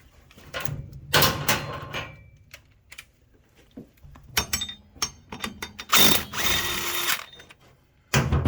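A ratchet on a 5/8 bolt removes the PTO pulley from a Craftsman riding mower, giving bursts of rapid clicking and metallic clatter spread across the clip, close up, with pauses in between.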